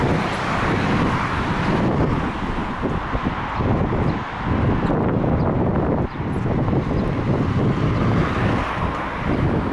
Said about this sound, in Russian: Так, я надеюсь, меня хоть слышно, потому что такой ветер дует.